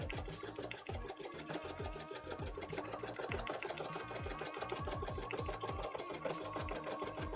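Embroidery machine stitching filled brick shapes on a cosplay panel of slightly thick material, a steady fast mechanical rattle running continuously at close range with no talk.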